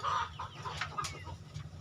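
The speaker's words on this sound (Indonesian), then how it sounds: "di belakang kandang yang tidak kelihatan ada kokok ayam, berarti pejantan. Lalu ada suara betina." Chickens behind a backyard poultry coop: a hen clucks repeatedly in short bursts, with a rooster's call faintly mixed in, over steady low farmyard background noise and no talking.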